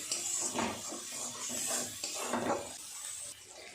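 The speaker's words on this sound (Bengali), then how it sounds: "সময় নিয়ে আস্তে আস্তে এইভাবে মশলাটা কষিয়ে নেব।" Spice paste frying in oil in a pan, a steady sizzle broken by repeated scraping and stirring strokes, close and fairly loud with no voices.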